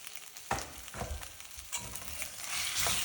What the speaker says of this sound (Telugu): సో దీన్ని అలా బాగా కొంచెం సేపు కలిపేసి బాగా మగ్గనిద్దాం